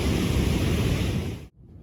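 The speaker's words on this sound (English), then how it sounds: "it's now blowing a stiff northwesterly straight over my head" A stiff northwesterly wind blows hard across a North East shore beside a heavy sea during spring codling fishing. It makes a loud, steady roar of gusts and surf, then cuts off abruptly near the end.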